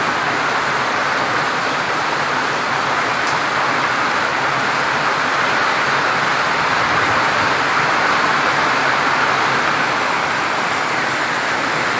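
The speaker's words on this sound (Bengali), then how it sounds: "রহমতে বৃষ্টি ঝরছে" Rain falls steadily over Naria in Shariatpur, a loud, even hiss that holds without pause from start to finish, with no voices.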